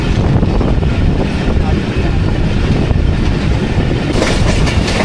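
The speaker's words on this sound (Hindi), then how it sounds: "सामने से आ रही है पेशावर और कराची के दरमियान चलने वाली 14 डाउन अवाम एक्सप्रेस" The Awam Express passenger train, running between Peshawar and Karachi, rolls past loudly and close at a Karachi station, a continuous rumble and rattle with wind buffeting the microphone.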